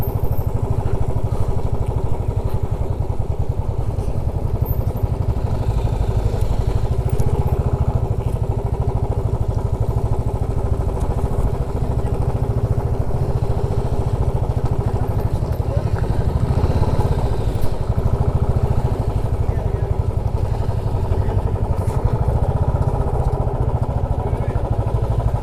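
A motorcycle engine runs steadily and loudly throughout at close range, a constant low throbbing rumble with slight clatter, on a long-distance bike ride near a lake.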